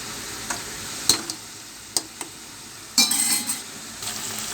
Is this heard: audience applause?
no